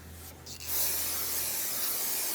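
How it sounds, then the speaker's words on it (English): A steady, loud aerosol hiss of brake parts cleaner sprayed on a brake rotor of a Hyundai Santa Fe starts after a brief pause and keeps spraying continuously to the end, with no talking. "Take brake parts cleaner, spray down the rotor"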